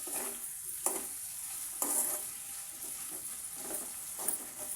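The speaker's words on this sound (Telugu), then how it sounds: "సిమ్లో పెట్టండి ఎందుకంటే ఫ్రై కదా మెల్లగా అయితే కలుపుకుంటున్నానండి" Potato fry being stirred slowly in an iron kadai over low heat, a few scraping strokes of a spoon over a soft continuous sizzle, close and moderately quiet.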